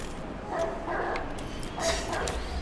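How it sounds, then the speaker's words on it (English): A dog in the video game Watch Dogs 2 gives a run of yapping barks in two short bursts, fairly close and clear, with a voice talking over it. "Oh, there's another dog here."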